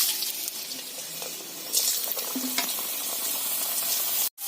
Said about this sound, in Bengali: এবার আমি গরম তেলে দিয়ে দিলাম